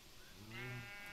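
A single short, faint bleat from a sheep in the survival crafting game Craft to Survive, rising briefly and then held.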